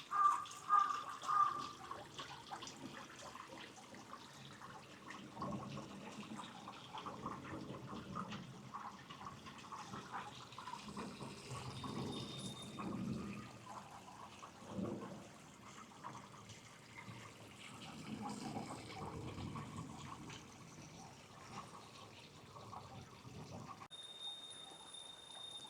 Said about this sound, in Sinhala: වතුර නිකම්ම ඔටෝ එනවා.